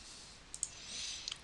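Two pairs of quiet, close mouse clicks on a computer, faint against a soft background hiss.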